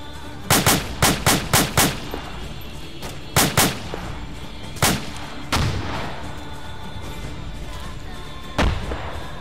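Gunfire in a military video game, with a quick burst of sharp shots, a second short cluster, then a few isolated loud cracks spaced out over several seconds.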